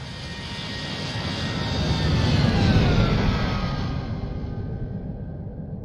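Boeing 787-9 jetliner flying past in the X-Plane 11 flight simulator, a broad steady engine roar that swells to a peak midway and then fades as it moves away, with no voices.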